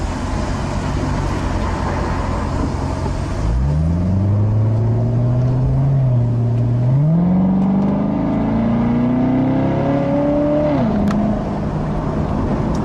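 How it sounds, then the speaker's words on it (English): A 2014 Chevrolet Corvette Stingray with an automatic transmission accelerates hard with its loud exhaust, engine note climbing through several upshifts with brief dips between gears, close and loud throughout. "the Corvette has a very, very rambunctious exhaust note"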